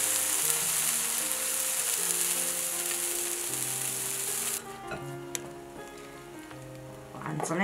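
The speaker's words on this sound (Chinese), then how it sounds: "丸子呢，再煎。" Meatballs frying in hot oil in a home kitchen pan over low heat give a loud, dense sizzle that drops to a quieter crackle partway through, with music playing underneath.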